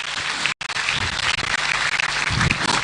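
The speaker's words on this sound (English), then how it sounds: "Let's give her a thunderous applause." Audience applauding at a graduation ceremony, dense steady clapping from a large crowd filling the space, with a brief cut partway through.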